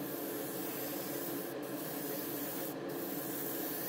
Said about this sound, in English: You can hear I'm pretty much on full trigger, and there's just hardly any paint coming out